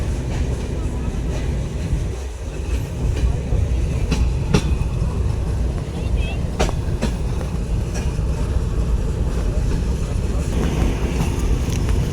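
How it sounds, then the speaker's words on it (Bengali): Sundarban Express passenger train running on rails, a steady loud rumble of wheels with sharp clanks and rattles at irregular moments, heard up close from on board throughout. "9:55 ট্রেনটি ভাঙা স্টেশন থেকে ছেড়ে দিল।"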